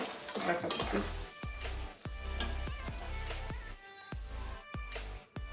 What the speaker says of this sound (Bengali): এবারে নামিয়ে নিচ্ছি এখানে নামিয়ে নেবো একটা বাটির মধ্যে ঢেলে